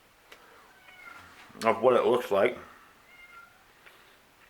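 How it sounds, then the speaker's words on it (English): A cat gives a drawn-out, plaintive meow, nearby and fairly loud, while a person speaks briefly and quietly around it. "I don't know if you can hear my cat crying."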